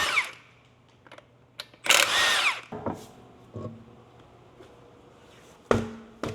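A power tool removes the stock wheels from a car: a loud, whirring burst, then shorter buzzing spurts and metallic clanks, with quiet gaps between them, heard close by.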